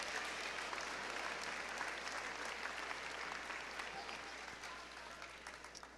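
A school assembly audience at a high school honors awards ceremony applauds award-winning students, a steady dense wash of many hands clapping, heard from a distance, slowly tapering toward the end.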